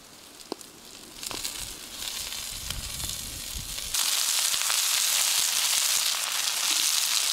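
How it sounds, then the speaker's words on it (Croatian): Pieces of chicken meat hit a pan of hot garlic and oil, setting off a loud, steady sizzle that jumps in intensity midway after a few crackly handling noises, with no talking. "Nakon bijelog luka ću dodati meso."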